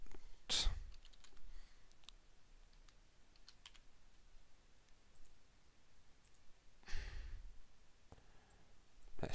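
Quiet keystrokes on a computer keyboard while building a Portal 2 map in the Hammer editor, soft scattered clicks with a couple of louder breathy gusts near the mic, faint and close.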